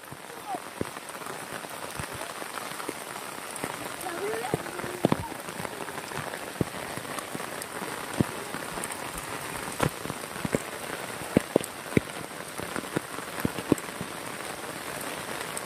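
Heavy monsoon rain in the Konkan countryside pours steadily onto surfaces, a dense continuous patter with scattered sharper drop hits, heard up close with no voices.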